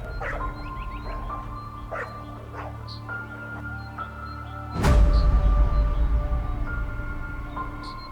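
African wild dogs in the Namibian desert call repeatedly with high yips, whimpers and short barks, a steady chorus that swells into a louder, denser burst of calls and movement partway through.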